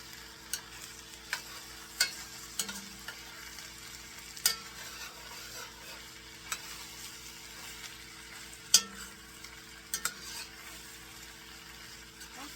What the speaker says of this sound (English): I'm just going to cook this until the garlic becomes fragrant